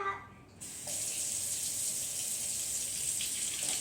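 Tap water runs steadily into a kitchen sink while something is washed, a continuous splashing flow that starts abruptly and keeps going.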